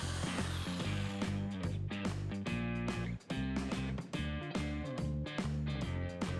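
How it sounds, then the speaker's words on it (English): Power jigsaw cutting wooden birdhouse panels, a loud, close, rapid buzzing rasp that runs almost continuously with brief dips as the blade moves along the cut line. "Cut along the lines with a jigsaw or circle saw"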